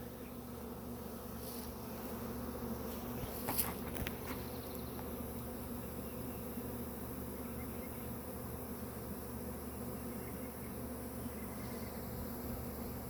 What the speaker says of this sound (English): as the bees started walking out to the hive, they started fanning